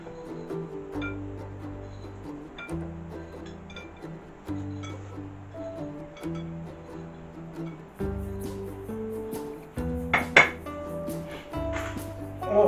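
Walnuts and greens of an Auvergne salad being stirred in a bowl, with repeated clinks and scrapes of utensils against the dish over a low background hum.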